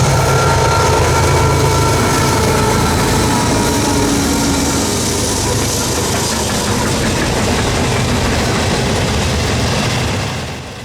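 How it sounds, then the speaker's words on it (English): A CSX freight train led by two ES44C4 locomotives rushes past at speed, a loud continuous roar of engines and rolling wagons that fades out sharply at the end. "the raw power of 2 ES44C4s pulled the 361 back towards home"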